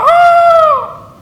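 A rooster gives a single loud, close crow that holds steady for most of a second and then fades out.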